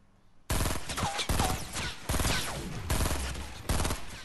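Shotgun blasts in Fortnite: a rapid series of loud, close booming shots, roughly six to eight in about four seconds, with no talk over them.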